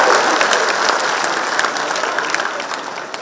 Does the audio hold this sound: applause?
yes